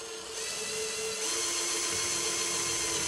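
A small drill bit boring a hole into a metal motor shaft, a steady high-pitched whine that rises slightly as the cut bites in, close and continuous without speech.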